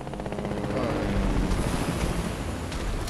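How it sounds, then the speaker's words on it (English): A helicopter in the video game Fortnite gives a loud, continuous rotor roar and whine that fills the whole stretch without a break, with the player close inside the chopper. "I'm in the chopper."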